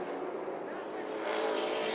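Race cars roar around the track at Tucson Speedway, a steady, dense engine rumble that swells slightly toward the end, with a commentator talking over it.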